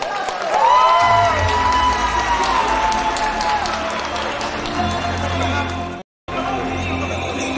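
Crowd applauding and cheering for the women's single-fibre category champion at a 2011 prize ceremony, a loud, sustained wash of clapping with whoops and voices, dropping out briefly near the end before resuming.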